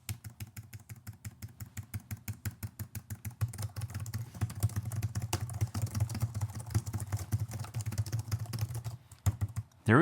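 Rapid clicking of computer keyboard keys, steady rhythmic taps at first, then faster, denser typing with a low hum underneath.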